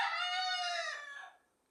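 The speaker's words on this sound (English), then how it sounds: "There's 3 roosters." Roosters crow together in one loud, close burst lasting about a second before trailing off into quiet.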